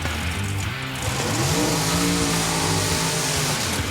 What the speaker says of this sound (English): Let's watch her burn out.